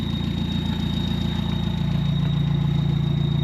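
Ford Fairlane engine idling steadily just after starting, a loud, even, low rumble with a slight rhythmic knock, close by and with no other sound.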